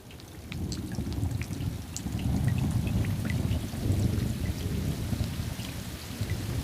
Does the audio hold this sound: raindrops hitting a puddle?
yes